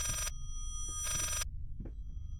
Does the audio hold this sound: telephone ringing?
yes